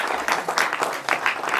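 Audience clapping at the launch of a poetry book by Christian writers and artists, a short burst of bright, uneven claps close by, with faint voices mixed in.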